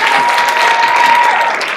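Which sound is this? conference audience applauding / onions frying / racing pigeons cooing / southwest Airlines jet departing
conference audience applauding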